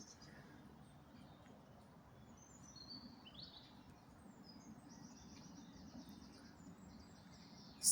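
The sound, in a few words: birds chirping in an oak tree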